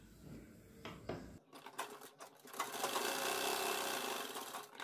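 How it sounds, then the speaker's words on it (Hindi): A sewing machine stitches dori piping onto a kurti neckline, its steady mechanical whirring running loud and continuous after a few brief handling clicks at the start. "अब इसके बाद आपको उसमें सिलाई लगानी है बीच में"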